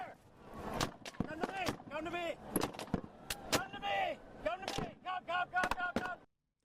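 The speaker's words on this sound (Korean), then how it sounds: "차량을 에워싼 경찰의 총격이 시작됐고" Police gunfire at a roadside shooting in California, officers surrounding a vehicle: a run of sharp, loud cracks and bangs at irregular intervals over about six seconds, mixed with voices, with no quiet between the shots.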